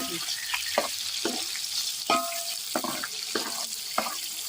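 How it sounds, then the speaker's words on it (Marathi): Soybeans frying in hot oil, a steady broadband sizzle with intermittent scraping clicks from stirring, close and moderately loud, no talking. "आता सोयाबीन फक्त तेलामध्ये तळून घ्यायचे आहेत"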